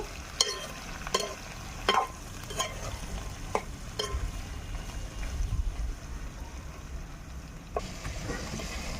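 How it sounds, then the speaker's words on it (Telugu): Ridge gourd pieces are stirred and cooked in oil, with a low, steady sizzle broken by several sharp scraping knocks of a spoon against the pan; no talking. "అన్నీ ఒకసారి కలుపుకుందాము. ఈ ఆయిల్లో మంచిగా మగ్గాలండి."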